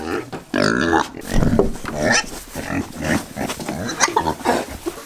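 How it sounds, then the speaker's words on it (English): Pigs grunt and snort at close range while being given feed, with repeated low rough calls and some bustle around them. "Pig."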